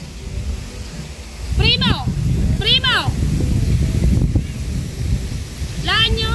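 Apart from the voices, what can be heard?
strong wind outdoors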